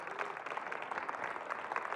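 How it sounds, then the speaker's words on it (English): A church congregation claps hands together, a brief burst of quiet, dense applause heard from a distance that carries on evenly for two seconds. "give the Lord a hand clap"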